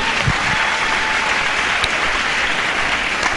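A church congregation breaks into steady, dense applause during a worship service, a continuous wash of clapping with no one speaking over it.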